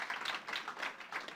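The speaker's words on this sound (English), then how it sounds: "if you want to give an applause" Scattered audience clapping at a PechaKucha Night presentation event in Burlington, Vermont, fairly faint and uneven, rising and falling in small waves over a brief moment.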